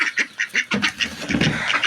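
A single duck quacking close by in a backyard poultry pen, a series of about six rhythmic quacks followed by a busier stretch of overlapping calls and scuffling.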